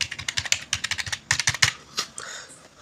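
Someone types an Aadhaar number by hand on a computer keyboard: a close, brisk run of crisp key clicks in uneven bursts, slowing toward the end, with no talking.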